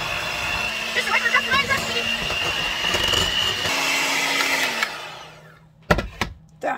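An electric mixer whirs steadily through cake batter for a jello cake cupcake recipe, its motor pitch shifting slightly, then cutting off as a few clatters and knocks follow.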